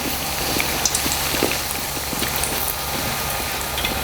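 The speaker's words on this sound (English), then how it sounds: "It fries it real good when it's halfway like that" Bread fries in vegetable oil filling half of an 8-quart pan, giving a steady, moderately loud bubbling sizzle with scattered small pops.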